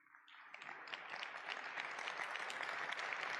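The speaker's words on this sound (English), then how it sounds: "we wondered what would get the applause" Audience applause at a tech conference builds from a few early claps into steady, dense clapping that holds loud and even throughout, with no talking over it.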